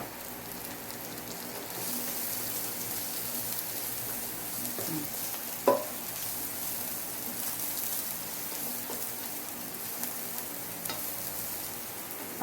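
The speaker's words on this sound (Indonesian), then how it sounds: "Ini kita tumis ya. Kita masukin bawang putihnya sama jahenya." Garlic and ginger sautéing in a pan make a constant bright sizzle with a few clinks of stirring, steady and moderately loud throughout.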